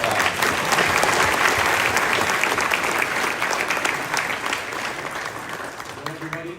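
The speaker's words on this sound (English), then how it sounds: "let's give Adam a round of applause" Audience applause for Adam at a youth event with a politician, a dense steady clapping that fills the room and slowly tapers toward the end, with faint crowd voices beneath.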